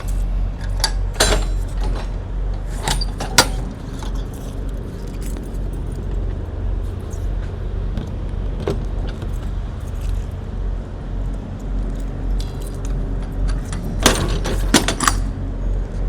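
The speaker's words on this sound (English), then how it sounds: "I got more keys than a janitor on this keychain, man." A large bunch of keys on a keychain jangles in repeated bright metallic bursts, close and fairly loud, over a steady low rumble that sounds like a vehicle cab, with no talking.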